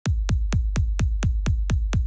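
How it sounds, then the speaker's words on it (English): An EDM kick drum programmed in FL Studio hits nine times in a steady fast beat, each a punchy deep thump with a sharp click at the attack, dry and alone. "And they sound like this. This is the kick drum."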